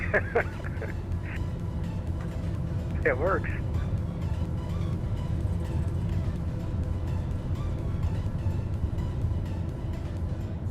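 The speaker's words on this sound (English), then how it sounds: "the radial engines sound glorious" Radial aircraft engines droning in a flight simulator game, a steady low rumbling hum running throughout beneath people talking.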